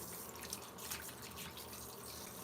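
Water from a tap running steadily onto 400 grit wet/dry sandpaper, a soft continuous splashing and trickle, faint and close, with no talking.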